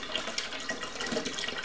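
Water steadily poured into a betta fish tank during a partial water change, a continuous soft splashing trickle at low volume with no talking.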